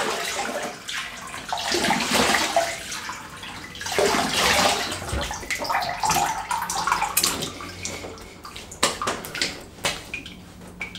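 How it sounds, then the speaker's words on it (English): Water rinses down a car during a hand wash, a close, rushing spray that swells and fades over several seconds, with a few light knocks and splashes near the end. "let's have a quick rinse"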